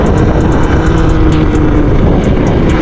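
A Talaria electric dirt bike running flat out at full throttle in mode 1, a loud, steady whine with rushing wind noise held without a break, close to the microphone.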